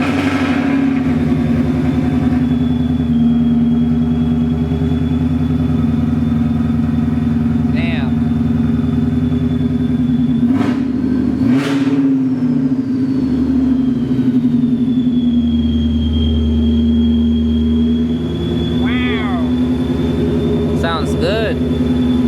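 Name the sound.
supercharged S550 Mustang engine revving with long tube headers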